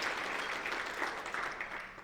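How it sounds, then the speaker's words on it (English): An audience at the port's annual State of the Port event gives a short, faint round of applause, a soft, steady patter of many hands that tapers off at the end. "let's hear another round of applause for all those great announcements"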